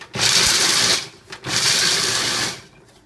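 Walnuts are ground for muhammara in a grinder, producing two close, loud whirring bursts of about a second each with a brief pause between them.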